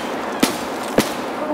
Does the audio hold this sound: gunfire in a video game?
yes